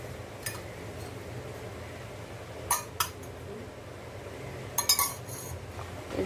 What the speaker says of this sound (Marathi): इडलीच्या भांड्यांना व्यवस्थित तेल लावून घ्यायचं आहे।